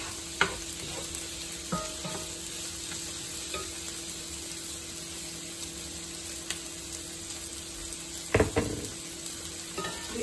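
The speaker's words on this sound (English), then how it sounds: "Okay, so I've flipped my fish and I kind of just peeled the skin off and I'm frying it up." Skinless turbot fillet frying in a pan, a steady low sizzle with a faint hum beneath and a few clinks and clatters of utensils, fairly quiet and close with no talking.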